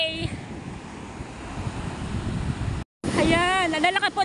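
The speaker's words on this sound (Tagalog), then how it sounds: "Ayan, nalalaki po ng alon." Big ocean waves crash and roar in a sustained, loud broadband rush mixed with wind, and a person talks briefly at the start and again near the end.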